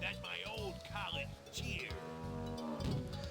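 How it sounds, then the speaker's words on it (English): Cattle moo in the retro point-and-click game Kyrandia: Malcolm's Revenge, several drawn-out, pitch-sliding lows heard close and clear with someone talking over them. "these are cows"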